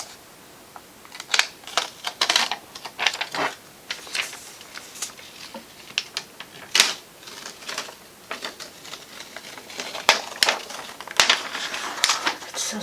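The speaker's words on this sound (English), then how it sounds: "the purple iPad Air. Let's take this plastic off." Protective plastic film peels off a new purple iPad Air, heard up close as faint, irregular crackles and crinkles over several seconds, with no talking.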